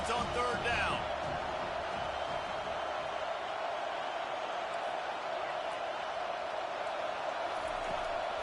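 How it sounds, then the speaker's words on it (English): A football stadium crowd roars steadily on a third-down defensive stand, a dense, sustained wall of cheering throughout with a play-by-play voice talking over it. "Decibels rising as the crowd gets behind this defense on third down."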